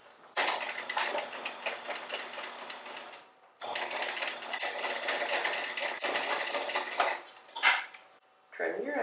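Sewing machine stitching back and forth close to a D-ring on a fabric wristlet, a fast steady mechanical whirring with ticking, running in two long bursts with a short pause and a brief stop near the end.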